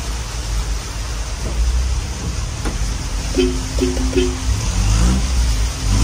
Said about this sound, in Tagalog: tignan nyo, ang lakas ng ulan